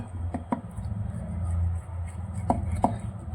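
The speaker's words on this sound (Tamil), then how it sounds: "இதை வந்துட்டு கட் பண்ண போகிறோம்" A knife cuts through stuffed spring roll samosa sheets on a board in a few sharp, separate chops, two close together early and two more near the end, over a low steady background hum.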